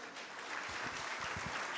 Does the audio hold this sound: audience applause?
yes